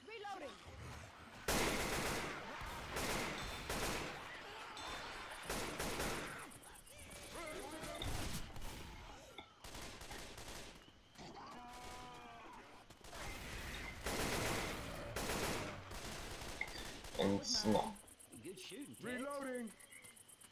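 An AK-47 rifle in Left 4 Dead 2 fires repeated bursts amid chaotic game noise and smashing sounds, while someone talks in Polish over the action.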